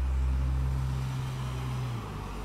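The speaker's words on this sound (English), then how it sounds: "There's another car going by." A car passes by at a Daytona race preview, a steady low engine rumble that holds and then fades slightly toward the end, with no voices.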